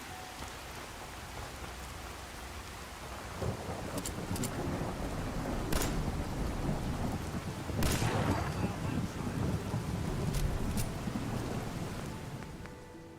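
Rain and thunder in the Fallout 4 video game: a dense, steady downpour with low rumbling thunder swelling in the middle and a few sharp cracks, continuous and fairly loud throughout.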